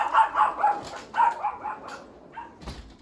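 Dogs bark outdoors in a backyard near orchid shelves, a rhythmic run of sharp barks at moderate distance, fading to a few scattered barks and yips toward the end.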